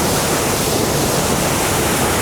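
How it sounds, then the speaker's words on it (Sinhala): The Sera Ella waterfall pours down in a loud, unbroken roar that fills the whole moment, with no voices over it. "ඔන්න මේ කඩාගෙන හැලෙන්නේ සේරැල්ල"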